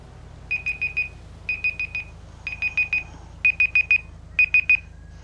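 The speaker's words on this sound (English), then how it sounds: "That was my timer" Electronic timer alarm beeping in rapid bursts of four tones, repeated five times with short pauses between, clear and close with a low background hum.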